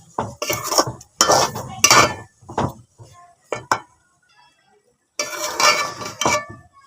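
Boiled raw mangoes stirred gently into sugar syrup for mango murabba, heard as a few close, separate bursts of clinking and scraping against a pot, with short quiet gaps between them.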